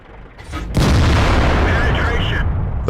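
A tank gun fires in World of Tanks from a Rhm.-Borsig Waffenträger tank destroyer, a single loud, close boom that erupts suddenly and rolls on as a dense rumbling blast.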